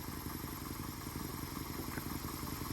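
A Toyota Corolla 1ZZ-FE 1.8-liter four-cylinder engine runs at a steady idle, a faint, even, rhythmic mechanical chug with light clatter and no talk.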